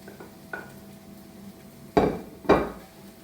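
A spoon works tomato into spiced masala in a pan for egg puff filling, with faint soft scraping that gives way to two sharp, close metallic clanks in quick succession. No voices.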